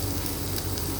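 Eggplant pieces fry in a pan over low to medium heat, giving a steady, close sizzle with faint crackling and no talking.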